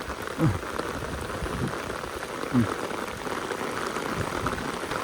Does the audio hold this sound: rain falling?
yes